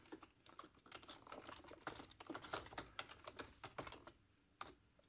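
Someone types quickly on a computer keyboard, close up, in a steady run of crisp key clicks with a few short pauses. It sounds fairly quiet, with no talking.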